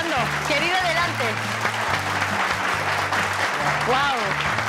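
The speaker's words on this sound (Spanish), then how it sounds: "Un fuerte aplauso, por favor." An audience claps on a television tribute show for a singer, the clapping running beneath loud, steady music with a low bass line and sung or talked voices on top.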